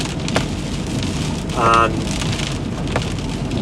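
Steady rain falls on a building site where footings are to be dug, a dense continuous patter with a brief tonal whine partway through and a voice speaking a word over it.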